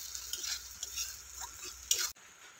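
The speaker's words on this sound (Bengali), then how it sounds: "ভালো করে নাড়াচাড়া করে নিচ্ছি।" Egg mixture with salt being stirred in a bowl for a Bengali steamed egg dish, giving soft repeated scraping and clinking strokes at close range that stop abruptly near the end.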